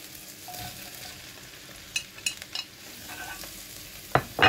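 Mushrooms tipped into a pan for stir-fried noodles with vegetables and eggs give a faint, low sizzle with light scraping, then a sharper clatter and burst of frying near the end.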